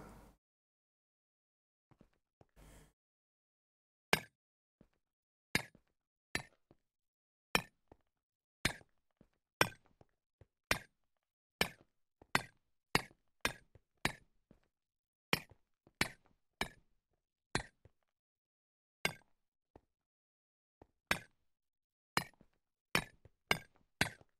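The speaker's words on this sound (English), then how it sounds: "we're just going to chisel the floor into something a little bit nicer" Chiseling floor blocks in the Minecraft modpack Stoneblock: a long run of sharp, clinking taps, single and in quick pairs, spaced irregularly over near silence.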